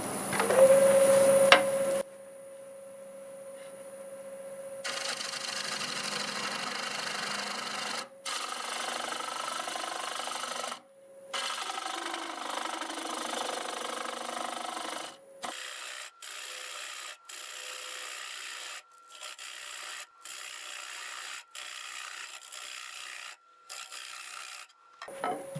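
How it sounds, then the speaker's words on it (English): A round carbide tool scrapes hard wood spinning on a lathe, giving repeated rough rasping passes separated by short silences, close and fairly quiet, with a faint steady hum behind it. "I'm going to switch to this round carbide just to get that most of it out of the way."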